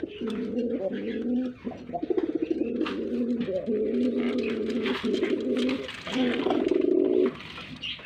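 Several domestic Gola pigeons coo repeatedly up close, low throaty rolling calls overlapping in a steady stream, with faint chirps and rustling behind them.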